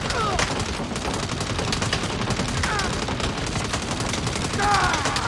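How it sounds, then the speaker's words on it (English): Gunfire from Saints Row rattles in continuous rapid volleys of close shots, a dense chattering barrage with occasional louder bursts, while a voice talks intermittently over it. "I'm getting shot."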